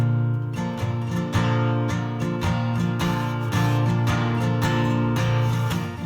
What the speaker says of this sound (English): This means playing the guitar once, and then playing it again, and then panning each take left and right.